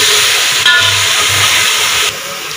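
Onions sizzling in hot ghee in a pan while chicken is being cooked, a steady loud hiss with crackle filling the whole clip, dropping slightly near the end.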